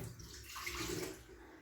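Water drains off thawed frozen kingfish in a kitchen, a soft continuous pouring and splashing that is fairly quiet and close.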